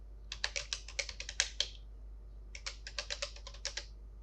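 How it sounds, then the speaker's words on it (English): Quick clicks of a computer keyboard being typed on, in two short bursts with a pause between them, close and clear against a low steady hum. "Now you need to type in your data, so type in your email and type in your first and last name."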